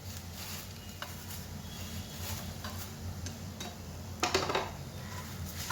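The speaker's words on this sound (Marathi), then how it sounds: "आता लवकर आपण मिक्स करायचं आणि आता परत पातळ पोह्याचा लेअर टाकायचा." A spoon stirs and tosses poha chivda ingredients, thin and thick poha, in a pan with a soft steady scraping and rustle, light sizzling beneath and a few sharper clinks against the pan near the end.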